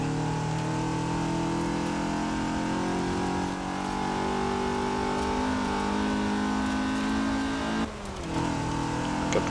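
A stock 1980 Fiat 124 Sport Spider engine revs hard in Forza Horizon 4 while climbing a hill, holding a loud sustained drone that rises and strains for several seconds before a brief dip and a fresh surge.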